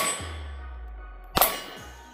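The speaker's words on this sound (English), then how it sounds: "We're going to go for the top of that red target right there and see if we can get just a little bit better shooting" A single sharp metallic clang from a pistol round striking a red steel target, heard at a distance with a faint ringing tail over a low steady hum.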